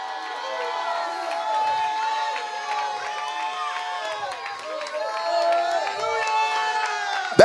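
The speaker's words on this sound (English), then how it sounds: "Now clap your hands unto the Lord and shout unto the Lord with a voice of triumph." Church congregation clapping and shouting in praise during worship, loud and continuous, with layered voices whooping and calling out.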